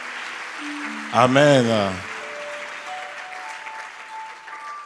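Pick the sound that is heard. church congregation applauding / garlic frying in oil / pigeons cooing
church congregation applauding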